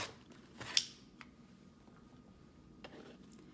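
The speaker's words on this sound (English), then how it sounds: "we're just going to cut right on the diagonal line into 2 pieces" Scissors cut through stitched quilting fabric squares along the diagonal, giving one sharp, close snip near the start followed by a few faint clicks in quiet surroundings.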